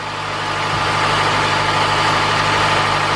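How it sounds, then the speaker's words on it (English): Honda Accord with an EGR flow fault idling high, a steady close engine hum with a low droning tone that runs unbroken for a few seconds, no voices. "let the car idle down just a little bit"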